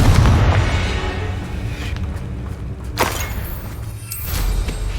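The Confringo blasting spell detonates in Hogwarts Legacy, a sharp boom with rumbling debris, followed by further thuds and crackling impacts at close range.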